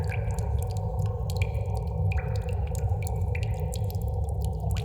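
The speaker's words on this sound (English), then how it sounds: "We've got this cave ambience here." Low, dark cave ambience, layered and pitched down: rumbling with scattered drips and soft watery echoes, steady and ominous, with no voices.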